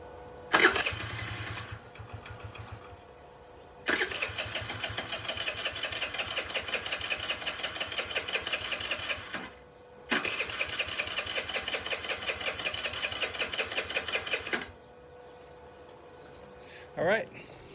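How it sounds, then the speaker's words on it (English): A Chinese 50cc scooter engine idles in two long, steady stretches. It buzzes with a fast, even mechanical chatter and stops abruptly between runs, with a brief restart blip at the end. "I can't believe it's kind of idling."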